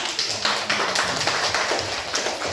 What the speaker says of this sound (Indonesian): Bagus, kita kasih aplaus untuk Syada